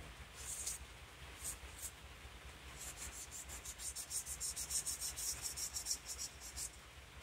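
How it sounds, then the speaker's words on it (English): Sandpaper lightly rubbing a small resin reptile figure, a run of quick rhythmic back-and-forth scratchy strokes, close and steady, growing denser partway through. "I'm just going to give it a light sand."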